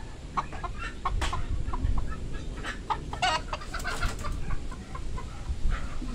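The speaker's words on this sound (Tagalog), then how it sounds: "Umidada yung manok sa atin sa taas" A chicken cackles and clucks repeatedly in short, sharp bursts, fairly close, over a low background rumble.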